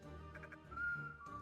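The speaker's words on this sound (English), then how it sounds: "Whistling sound?" A faint, thin whistle holds a single pitch for about half a second, preceded by a few soft ticks, quiet and close.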